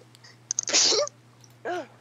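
One loud, close human sneeze: a few quick sharp inhales, then a forceful burst, followed by a short voiced sound, over a low steady hum.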